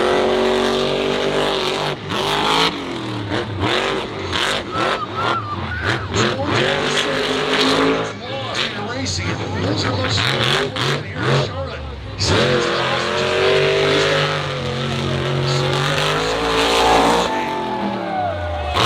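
A monster truck runs a timed lap on a dirt track in Charlotte, North Carolina, its engine roaring and revving in surges beneath continuous announcer commentary.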